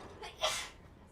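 A single short, quiet sneeze bursts out in a room indoors, breathy and faint, with soft background noise and no speech.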